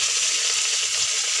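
Chicken pieces in hot oil, a loud, close, continuous hiss of frying with no breaks.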